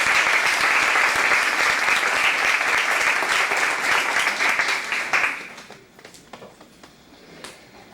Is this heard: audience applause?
yes